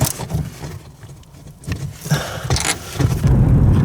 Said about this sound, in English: we're in the Civic driving